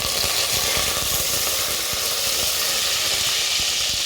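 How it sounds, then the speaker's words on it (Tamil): Curry leaves sputter in hot oil while kurma spices are tempered, a steady bright hiss with dense crackling pops and occasional sharper spits. "அது பொரிஞ்ச உடனே கருவேப்பிலை சேர்த்துக்கோங்க."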